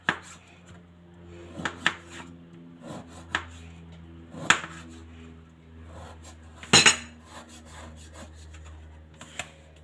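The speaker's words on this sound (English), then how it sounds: "So now I'm going to cut my jaggery." A knife cuts through a block of jaggery, which is boiled-down sugar, on a hard surface. Sharp, uneven scraping and knocking strokes come at irregular intervals over a low steady hum.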